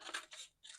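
Scissors make three quick, close snips as they trim a piece of handmade paper, each cut a short crisp rasp in a quiet room.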